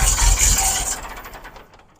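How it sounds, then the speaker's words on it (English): A tractor engine runs loudly with a rough, broad roar for about a second, then drops to a quieter, steady rumble that fades toward the end. "I'm yelling because the tractor's on"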